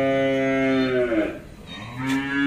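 A cow on a cattle farm gives one long, loud, close moo, briefly breaking off and then resuming, with no talk over it.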